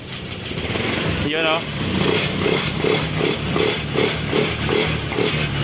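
Motorcycle engine cranking on its push-button starter right after a replaced switch, catching at once and settling into a steady, near idle with a faint rhythmic clatter, while someone speaks briefly over it.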